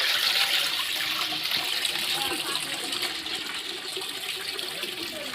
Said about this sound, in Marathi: आता आपण त्यात ओतणार आहोत पाणी.